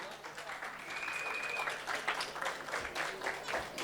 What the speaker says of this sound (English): Please give her a wonderful round of applause